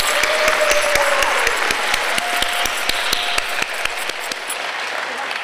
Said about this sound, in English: one more round of applause for the artists